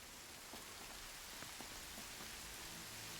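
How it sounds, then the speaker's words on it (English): Steady rain in the game Horizon Zero Dawn hisses continuously at low level, with scattered drop taps throughout and no voices. "And now it's raining, of course."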